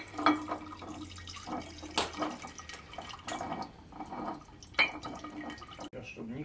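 Leftover corn moonshine drains from a still after a second distillation, with liquid trickling and dripping in a fairly close, uneven flow while someone talks over it.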